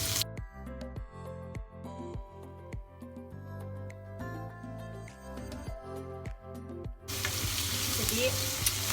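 Onions tipped into a hot pan already holding sweet soy sauce, oyster sauce and sugar for a stir-fried petai dish burst into a loud, steady sizzle near the end, after a stretch of background music.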